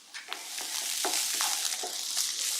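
Minced onion and about three minced garlic cloves fry in oil in a pan for ground beef stroganoff, giving a steady close sizzle broken by several scraping stirs of a spatula, with no talk.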